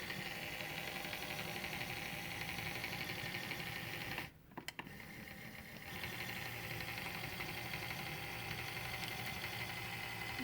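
A railway engine terminal turntable runs with a steady mechanical motor hum and rattling vibration, loud and close, briefly cutting out for about a second and a half before resuming its continuous drone; no one speaks.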